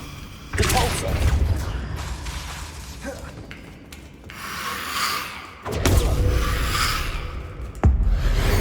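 Repulso spell effects cast during combat in the Hogwarts Legacy video game, several sharp whooshing blasts and crashes in quick succession with rumbling impacts between them.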